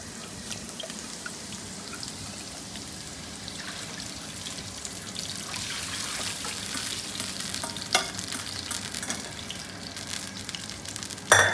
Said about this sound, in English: So you don't brown it, just saute until the rawness goes